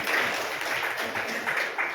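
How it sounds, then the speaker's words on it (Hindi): Congregation clapping in unison during a Hindi-language Christian worship service, a steady dense patter of many hands filling the whole stretch at moderate loudness. "ताली बजाओ यीशु के नाम में।"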